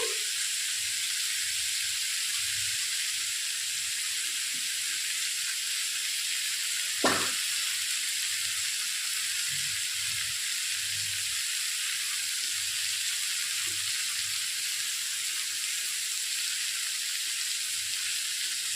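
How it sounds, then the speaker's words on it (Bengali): Spice masala being fried (kosha) in a pan for a thin Bengali fish curry, a steady bright sizzle running throughout with soft low stirring scrapes and one sharp clink of a utensil midway, no talk. "এবার মশলাটা একটু কষিয়ে নিচ্ছি"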